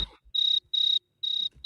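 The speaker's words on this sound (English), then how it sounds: "You can hear the crickets, right?" Crickets chirping indoors in a room, high, steady trilled pulses repeating in four evenly spaced bursts, clear and close against near silence.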